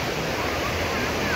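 River water rushes over a rocky bed beside a riverside campground, making a steady, full broadband roar that fills the whole moment without pause.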